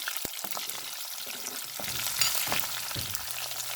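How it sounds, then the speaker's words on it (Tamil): Onion, green chilli and garlic fry in a hot pan as tempering for a fish curry kulambu, giving a steady close sizzle with occasional stirring clicks and scrapes throughout. "வெங்காயம் பச்சை மிளகாய் உள்ளி போடுறேன்"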